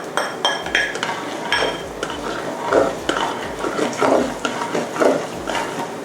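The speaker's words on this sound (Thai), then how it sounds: "ผัดนะคะให้พริกขี้หนูแล้วก็กระเทียมเริ่มมีกลิ่นหอมค่ะ" A spatula scrapes and clinks steadily against a hot wok as chopped garlic and bird's eye chili sizzle in vegetable oil and are stirred, rhythmic metallic taps repeating close up.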